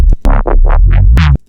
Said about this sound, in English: It is the classic Trump Disco, yucky, growl, dinosaur, noise, bass, Reese sound.